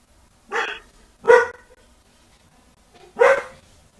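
A dog barks three times in separate short bursts, moderately close and fairly loud, with quiet gaps between the barks.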